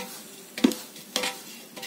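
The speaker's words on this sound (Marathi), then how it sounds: "चांगला परतवून घेऊया।" Chopped chilies and curry leaves are stirred in a pan of hot oil tempered with mustard seeds and urad dal for a large batch of rava upma, giving faint scraping stirs over a quiet sizzle.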